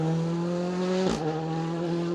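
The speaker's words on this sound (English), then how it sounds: "Barry McCartney in the Fiesta Rally 2" A Ford Fiesta Rally2 rally car passes on an asphalt stage of the Manx Rally. Its steady engine drone swells briefly to a close peak at mid-clip, then settles back.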